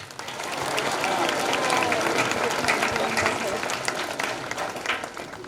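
A congregation at a priestly ordination in Kuamunda claps together in sustained, dense applause that swells and holds for several seconds, with some voices mixed in.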